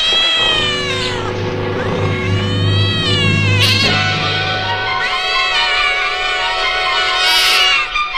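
A margay meows and caterwauls close by in drawn-out, wavering cries near a boa, loud and continuous with a steady background layer underneath.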